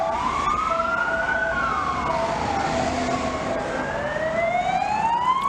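Emergency vehicle sirens in traffic in Portugal wail steadily in rising and falling sweeps, loud and close, with several overlapping tones and a faint road hum beneath.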